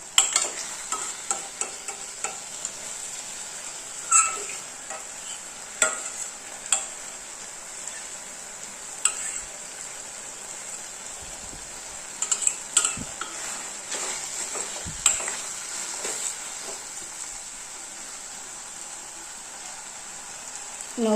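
Tomatoes for thakkali thokku sautéing in a pan, a soft continuous sizzle with scattered ticks and occasional spoon scrapes against the pan, no voices.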